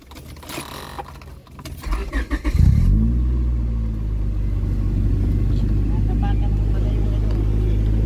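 Keys jangle and voices chatter before a parked car's engine starts up and settles into a steady, loud idle, left running to cool the interior.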